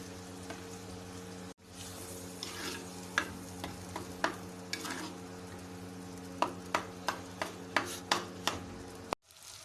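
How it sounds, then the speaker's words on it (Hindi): Beef brain frying in a pan gives a steady sizzle under a series of distinct scraping stir strokes. The strokes come in regular bursts toward the end, close and moderately loud, with no talk. "मगज़ हमने अच्छी तरह से भून लिया है"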